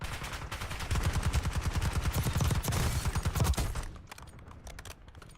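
Rapid automatic gunfire in Call of Duty: Warzone, a close, loud burst of regularly spaced shots lasting several seconds before cutting off into quieter clicks and ambient game noise.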